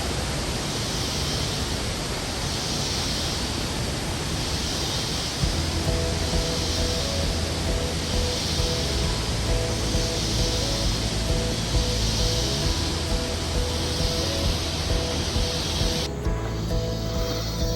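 The La Fortuna waterfall in Costa Rica pours into a big pool, making a dense, constant roar that stays steady throughout, while a low hum joins partway through.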